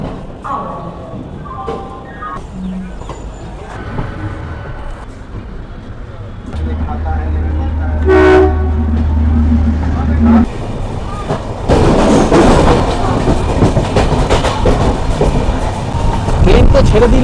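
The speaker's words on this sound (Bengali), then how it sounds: "ট্রেন তো ছেড়ে দিল, লিলুয়া ক্রস করলো" The Shipra Express rumbles along the tracks, a low steady roar that swells into a louder, broader rushing rattle partway through, with people talking over it and occasional thumps.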